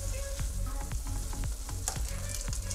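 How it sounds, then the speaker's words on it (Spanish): Rice and a little liquid being stirred in a sizzling pan for arroz con pollo, a continuous close frying hiss broken by quick repeated scrapes and knocks of the spoon. "Entonces voy a agregarle solamente este poquito y a mezclar."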